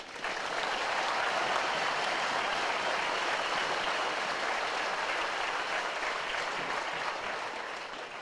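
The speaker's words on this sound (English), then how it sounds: "let's give them a round of applause" A large audience applauds soldiers of the 334 Infantry at a U.S. Army Basic Combat Training graduation, dense steady clapping that holds loud and even for about eight seconds before easing slightly at the end.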